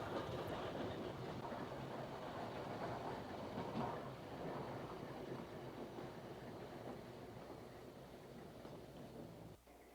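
A Chicago, Aurora and Elgin gas-electric interurban train runs steadily along the rails near Wheaton, Illinois, a continuous rumbling roll with faint clickety-clack that holds close and loud before dropping off slightly at the end.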